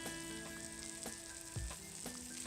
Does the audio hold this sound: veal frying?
yes